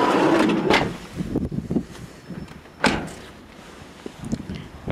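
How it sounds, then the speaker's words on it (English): Nissan Elgrand E51 minivan locked with its smart key, mirrors folding: a few short mechanical clunks and clicks of the door locks close by, followed by faint whirring movement, with brief gaps between the sounds. "lock the doors using this, doors are locked and you can see the mirrors are folding in as well"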